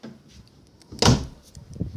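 A door in the video game Minecraft PE swings shut with a single sharp thud about halfway through, preceded and followed by quiet low rustling.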